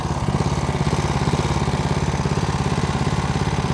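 A homemade outboard boat engine runs steadily on the water, its close, loud mechanical drone pulsing in a fast even rhythm throughout with no talking.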